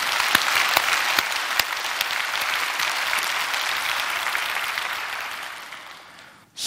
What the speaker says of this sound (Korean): 하나님께 영광의 큰 박수 합시다.